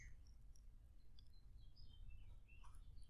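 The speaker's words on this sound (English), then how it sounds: "I'm listening to the birds chirping in the garage." Small birds chirp faintly and sporadically in a garage over a low background rumble, with short high tweets scattered across the moment.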